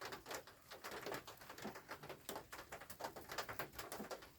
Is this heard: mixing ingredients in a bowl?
no